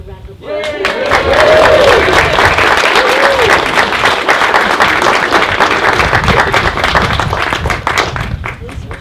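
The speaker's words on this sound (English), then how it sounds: "Perhaps they deserve a round of applause." Guests at an outdoor wedding ceremony applaud the couple with loud, close, sustained clapping that swells in quickly and holds steady, with a few voices and cheers rising through the start.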